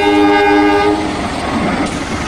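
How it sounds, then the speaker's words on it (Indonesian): A passing economy-class train near Surabaya: a loud, close horn blast gives way to a heavy, steady rumble of rolling wheels. "mantap, ada kereta api juga no"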